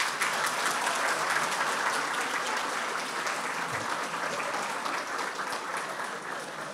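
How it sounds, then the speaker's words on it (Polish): A school prom audience in Żyrardów breaks into dense, sustained applause that fills the room evenly and fades only slightly over several seconds, with no voice over it. "Brawa."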